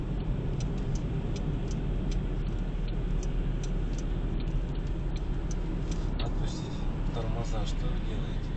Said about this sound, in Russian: Выключите поворотник.